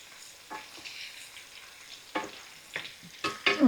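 Burgers for Salisbury steak sizzle in a frying pan with a steady crackle, broken by a few sharper clatters and scrapes as they are turned.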